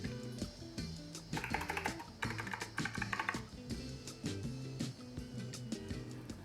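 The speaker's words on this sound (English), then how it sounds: "The keyboard came with GX blue clicky switch." Someone types steadily on a Logitech G Pro X mechanical keyboard with GX Blue clicky switches, making a quick run of crisp clacking keystrokes that is close but fairly quiet.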